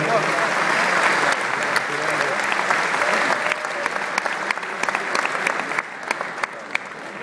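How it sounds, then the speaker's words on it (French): A large audience at a show in Lausanne applauds loudly and steadily, dense clapping filling the whole stretch and easing slightly toward the end, with no talk over it. "Je pense qu'on peut applaudir tous les jeunes."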